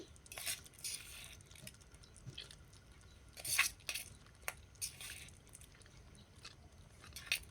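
Pulao rice goes into a pot of potatoes and water for egg biryani, giving faint scattered clinks and rustling pours with a few brighter metallic taps, quiet and without speech.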